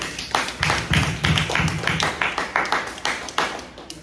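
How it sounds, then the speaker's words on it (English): An audience applauds Mr. Mike after he shares, a steady patter of many hands with a loose rhythm, close and moderately loud, filling the whole stretch. "Clap it up for Mr. Mike for sharing."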